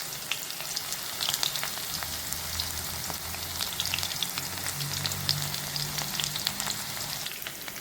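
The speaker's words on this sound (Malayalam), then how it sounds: "നമ്മൾ മുറിച്ച് വെച്ചിരിക്കുന്ന ഉള്ളി, ചെറിയ ഉള്ളി, ചെറുതായിട്ട് മുറിച്ച് വെച്ചിരിക്കുന്ന ചെറിയ ഉള്ളി ചേർക്കുകയാണ്" Chopped small onions (shallots) frying in hot oil with fenugreek for a sardine fish curry with coconut milk, a steady close crackling sizzle with dense popping spatters throughout and no speech.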